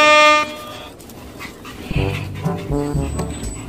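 Several shih tzu dogs yip and bark in short bursts, squabbling over a bed at close range, with whiny tonal cries and a few sharp barks overlapping.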